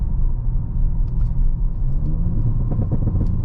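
A 2022 Audi S7 twin-turbo V6 engine rumbles steadily up close, with a few sharp exhaust pops and crackles breaking through near the end on a manual-mode downshift.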